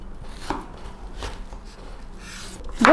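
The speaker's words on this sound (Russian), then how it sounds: "Кабачки буду нарезать кубиком." A knife chops zucchini into cubes on a cutting board, with a few sharp, separate knocks spaced across a few seconds.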